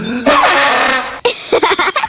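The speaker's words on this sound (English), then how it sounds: "That's the spal throttle." A spal throttle, a comical elf instrument in a children's cartoon, gives a raspy, noisy sustained blare for about a second, then a run of short sputtering, squawking bursts.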